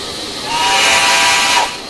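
A single loud, breathy steam whistle from an MNRR 0-6-0 switcher locomotive in the Trainz simulator blows for about a second, rising in then cutting off, with a hiss of steam around it.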